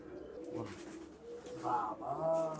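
A Rampuri pigeon coos softly a few times, low rolling calls close by against a quiet background.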